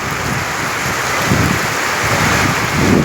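Steady, dense rain hiss fills the scene, with a broad rushing wash and low rumbles swelling near the end; no voices are heard.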